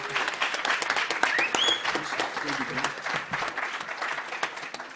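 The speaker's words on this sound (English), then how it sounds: "Give them a round of applause again, please." A crowd at a NAN convention panel gives a sustained round of applause, dense clapping throughout with a few cheers and whoops rising over it.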